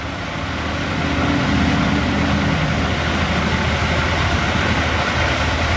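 A vehicle engine idles steadily at a German freight forwarder's yard, a continuous loud low rumble with a broad hiss that holds even throughout, no voices over it.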